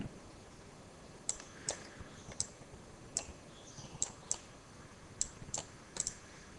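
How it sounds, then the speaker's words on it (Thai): Sharp, faint computer mouse clicks tick out one by one at irregular intervals over a quiet background, about a dozen in all, as a button is clicked in PLC control software. "ให้เราคลิกตรงปุ่ม expression editor เพื่อเข้าไปสร้าง expression"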